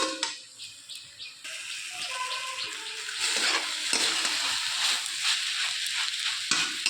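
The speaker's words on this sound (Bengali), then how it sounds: "আর একটু জোরটা বাড়িয়ে দিয়েছি, দিয়ে আর একটু ভাজা ভাজা মতো করে নামিয়ে নেব" Water spinach frying in a pan over raised heat, a loud continuous sizzle with repeated scraping stirs that grows stronger midway through.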